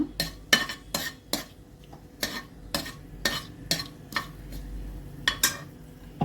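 Cinnamon, cardamom and bay leaf frying in a pan, a soft sizzle beneath a series of sharp metallic scrapes and clinks of a spoon stirring against the pan in an irregular rhythm, close and quiet, with no talking.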